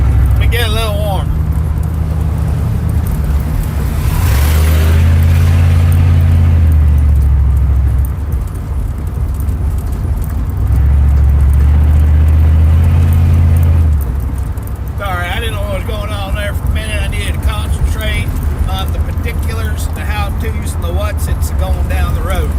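A loud truck rolls down the road with a deep engine rumble that swells and eases in surges, wind buffeting the cab, while someone talks over it throughout.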